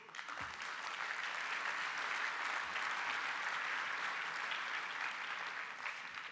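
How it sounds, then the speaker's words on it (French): Sustained applause from a large conference audience in a hall, dense even clapping that stays steady and fairly loud throughout with no speech over it. "Applaudissez-vous."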